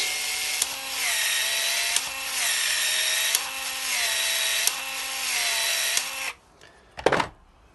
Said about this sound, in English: push your grip band over the outside, put your pipe expander inside it